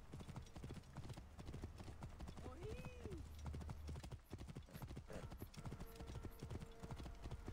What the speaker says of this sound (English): Kind of feels like the fastest that a horse has gone.